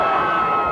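A football crowd at a high school game cheering in one steady, loud roar of many voices, filling the whole brief moment.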